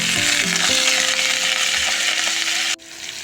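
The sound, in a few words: ingredients poured onto black cumin (kalonji) sizzling in hot oil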